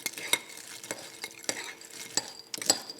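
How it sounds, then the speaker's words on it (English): Coated ingredients with a pinch of cinnamon being stirred in a bowl, a quiet series of close scraping strokes and light clinks in an irregular rhythm. "Stir those together"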